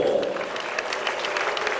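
Applause from a boxing crowd for both boys after a demonstration bout declared a no-contest draw, a steady wash of clapping over a little under two seconds, with a faint voice underneath.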